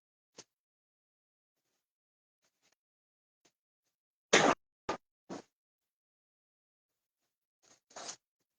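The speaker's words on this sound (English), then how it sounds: "Go ahead and peel back the plastic." Protective plastic film peeled off an Appleairusa F131 laser air filtration unit: a few short, sharp crackling rips in separate bursts, close and fairly loud against near silence.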